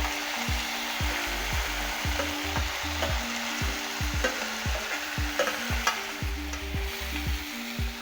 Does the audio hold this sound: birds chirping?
no